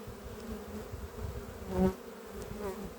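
Honey bees at a hive hum in a dense, low drone close by, with one brief louder buzz as an insect passes near.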